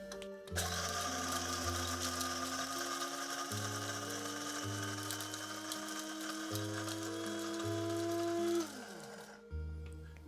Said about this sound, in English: And then hit the grind button.